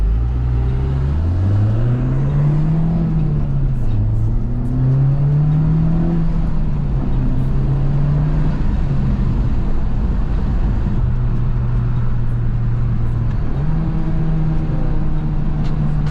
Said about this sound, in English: Perfect downshift.